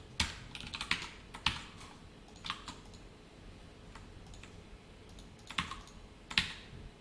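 Light typing on a computer keyboard while coding HTML, soft irregular clusters of key clicks with short pauses between bursts, close and quiet in an otherwise still room.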